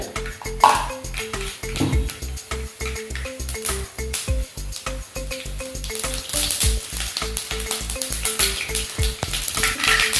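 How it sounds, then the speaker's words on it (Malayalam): Mustard seeds crackle and pop sharply in hot coconut oil, a busy, irregular sputter close up, with a tinkling melody playing underneath. "വെളിച്ചെണ്ണ ചൂടായിട്ടുണ്ട്. അതിലേക്ക് 1 ടീസ്പൂൺ കടുകിട്ട്"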